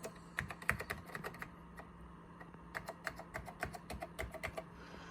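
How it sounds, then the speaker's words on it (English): Typing on a NeXT non-ADB keyboard with Alps click switches, sharp clicky keystrokes in quick irregular bursts with a short pause midway, close and fairly loud over a low steady hum. "I'm just going to type in here."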